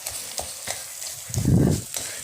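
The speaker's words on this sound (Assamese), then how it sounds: "মই বাছ এবাৰ এইখিনি লাৰি দিছোঁ আৰু এই বেঙেনাখিনি অকণমান হেতাখনেৰে থুকুচি" Brinjal in a pan is stirred and mashed with a spatula: a few soft scraping strokes over a faint sizzle, with one louder, fuller scrape near the end.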